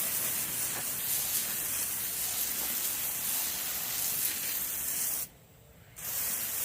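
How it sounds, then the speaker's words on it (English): Water spray hoses down broken parts being scrubbed clean with Simple Green, a steady close broadband hiss that runs without break, stops abruptly for under a second near the end, then resumes. "We'll hose her down and keep it going."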